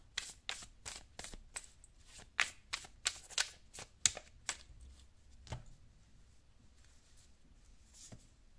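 Oracle cards for a numerology reading being shuffled by hand: a run of crisp, rapid riffling snaps and slaps, close and fairly quiet, thinning out into a few scattered taps at the end.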